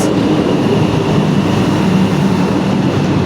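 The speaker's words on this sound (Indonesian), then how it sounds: "Sorry, itu ada kereta lewat." A train rumbles past close by, a loud steady roar of rolling wheels and rail noise that stays constant throughout with no voices over it.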